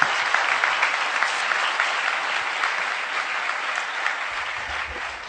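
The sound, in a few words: audience applause for the poets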